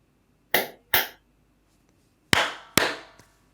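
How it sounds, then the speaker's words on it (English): Four sharp hand claps for syncing a podcast recording, two close together, a pause, then two more, each crisp and isolated against near silence. "let's do some claps"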